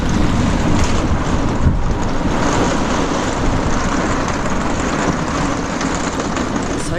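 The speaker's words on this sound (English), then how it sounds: "I swear to God, it is so windy outside." Strong wind gusts buffet a caravan and its tied-down awning while camping on the road in Australia, a loud, constant roaring rush with rattling flaps and no break across the whole stretch.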